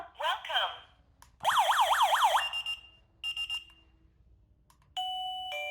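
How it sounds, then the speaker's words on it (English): A wireless caregiver pager sounds its door chime tone: several bursts of bright, warbling electronic chime notes with short pauses between them, close and clear against a quiet room. "The door chime is my favorite."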